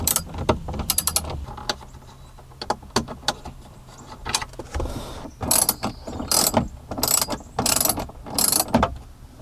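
A hand ratchet backs out 7mm bolts behind a Ford SYNC speaker grill, making close, rapid clicking runs in repeated bursts, with small mechanical knocks in between.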